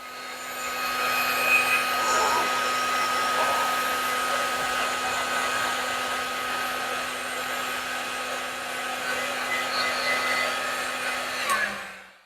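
A heat gun blows steadily while shrinking heat shrink tubing over a battery fuse cable end, a loud continuous whooshing hum that holds for about eleven seconds before switching off.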